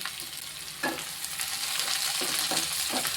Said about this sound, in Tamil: இது எண்ணெயில் வதங்கும் போது தனித்தனியாக பிரிஞ்சிடும் இந்த அளவுக்கு நல்லா வதங்கிக்கிட்டு இருக்குது